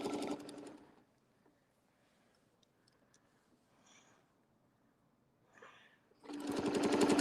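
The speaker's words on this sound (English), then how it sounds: "I'm just going to do a couple stitches around in a little tiny spot" Sewing machine stitching a small oval quilt design around a center spot, running in loud bursts at the start and end with quiet pauses between.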